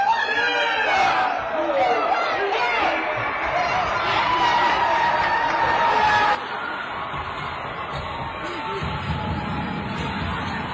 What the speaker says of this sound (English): This is the parents cheering in the crowd.